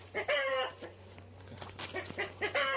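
Several chickens squawk and cluck in bursts while being chased into a coop, loud and close, with short gaps of quieter murmuring between the calls.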